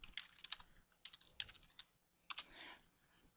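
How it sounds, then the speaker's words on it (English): Typing a search on a computer keyboard, with quick, light key clicks in short irregular bursts and brief pauses, close and fairly quiet, no voices. "let's type it in again"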